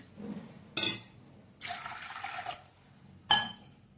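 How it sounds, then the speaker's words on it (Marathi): Short bursts of water splashing and pouring into a metal pressure cooker, three separate pours with quiet pauses between them. "2 ग्लास पाणी घालायचं"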